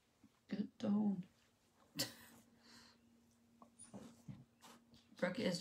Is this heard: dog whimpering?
yes